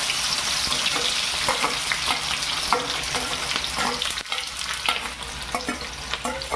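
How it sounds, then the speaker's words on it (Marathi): Sliced onions frying in hot oil for prawn biryani, a continuous loud sizzle with occasional stirring scrapes throughout and no talking. "उभा कांदा आता याला तळून घ्यायचे आपल्याला तेल गरम झालं आहे"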